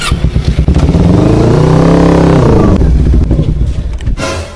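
A motorcycle engine revs loudly and up close, its pitch climbing and then falling away in a single sustained rev lasting a few seconds, with a clattering mechanical edge throughout.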